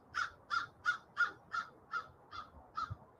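Crows cawing in a steady series of about eight evenly spaced calls, each a harsh, fairly loud caw, with a low rumbling background beneath them.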